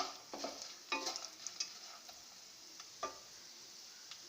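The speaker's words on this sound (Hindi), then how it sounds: "इस तरह फ्राई करने से ये नट्स बहुत क्रिस्पी हो जाते हैं" Nuts frying for halwa in a pan, a quiet sizzle punctuated by a few scattered stirring scrapes and light taps, faint and close.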